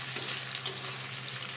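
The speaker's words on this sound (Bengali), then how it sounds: "আমি একটু ভাজি করে নেব।" Small cut potatoes fry in a pan with a brief, steady hiss and faint crackle, close and moderately quiet.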